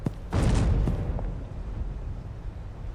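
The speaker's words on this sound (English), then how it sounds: "I collected it only to hear an explosion" A video game explosion in Schedule 1, a sudden deep booming blast with a rumbling tail that slowly dies away under a low background bed.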